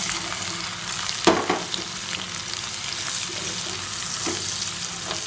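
Roughly chopped onions hit hot oil with cardamom and other whole spices in a pan, giving a steady close sizzle and frying hiss with a sharp clank of stirring near the start and another later.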